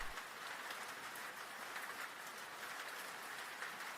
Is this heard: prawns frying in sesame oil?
no